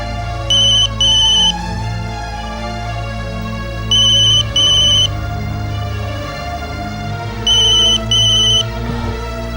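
An electronic telephone ringtone trills in three separate bursts of two pulses each inside a home in a Tamil TV serial, loud and clear over a steady low music bed.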